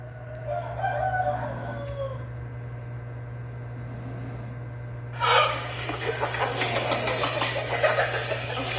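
Chickens and roosters at a poultry stall cluck faintly over a steady mechanical hum, then a loud burst of overlapping crowing and squawking breaks in and carries on, close and busy.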